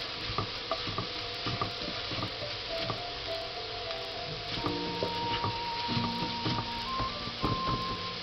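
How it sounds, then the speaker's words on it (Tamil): Onions sautéing in a pan for quail curry, a steady close sizzle with frequent small stirring scrapes and clinks throughout, no voices. "முதல்ல வெங்காயம் நல்லா வதங்கட்டும்"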